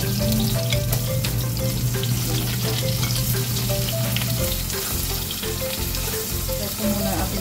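Eggplant and enoki mushrooms fry in hot oil in a pan, giving a steady, loud sizzle and crackle close up, with occasional stirring clinks and a faint tonal hum underneath.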